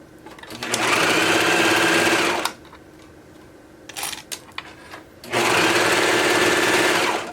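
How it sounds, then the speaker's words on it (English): A serger stitches dress pieces together in two loud, fast, whirring bursts of about two seconds each, with a short quiet gap between them filled by faint clicks and handling. "I'm gonna try and use my serger to put together these pieces to make the dress a little bit longer."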